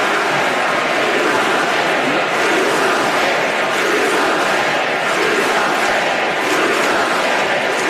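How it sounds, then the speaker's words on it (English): A large convention crowd at the DNC, during Michelle Obama's speech, roars in a steady, dense chant that stays loud and continuous throughout. "The DNC crowd started chanting, "Do something," during the Michelle Obama speech."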